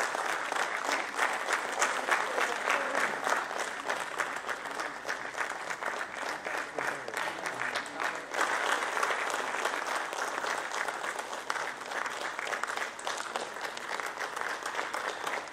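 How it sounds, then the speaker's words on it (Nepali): Sustained audience applause at a Gwala Diwas celebration and Milk Man of the Year award ceremony, a dense, steady clatter of many hands lasting the whole stretch without letting up. "सबैजनालाई जोरदार तालीको साथमा धन्यवाद दिँदै"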